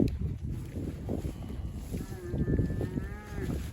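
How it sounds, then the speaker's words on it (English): Grass-finished steers and cows grazing on stockpiled pasture let out low mooing calls, near and fairly loud, with a drawn-out moo in the second half over steady wind noise outdoors. "We got our grass finished steers out here with the cows."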